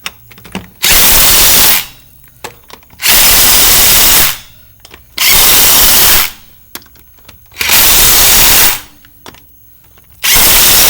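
Power impact wrench tightening wheel lug nuts after a brake job, five loud, close bursts of a second or so each, separated by short pauses, with no talking.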